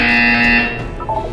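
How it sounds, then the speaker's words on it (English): A harsh electronic buzzer from the video game Portal 2 sounds loud and steady for about half a second, then cuts off into a faint tail and brief tones. "You will hear a buzzer."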